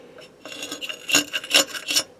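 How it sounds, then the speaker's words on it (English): A utensil scrapes a dried layer of meat broth off a surface in several short, rasping strokes, close and fairly loud with brief pauses between. "I'm going to scrape that back into my portable soup"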